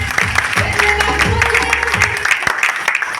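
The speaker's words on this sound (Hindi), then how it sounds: "ताली बजाओ इसकी।" Short round of clapping from an audience at a meeting speech, moderately loud and rhythmic, with a low hum and voices audible underneath.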